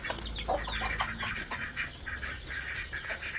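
Backyard chickens clucking close by at watering time, a run of short, busy clucks and calls in quick succession with no talk.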